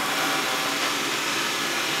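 A Xiaomi robot vacuum cleaner runs indoors with a steady, loud, broadband whir that holds even throughout and has no talk over it.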